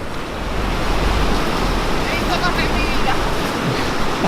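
Ocean waves washing against coastal rocks on a Galician shoreline at tide, a steady broadband surf roar with wind noise, continuous and fairly loud throughout, no clear individual breakers.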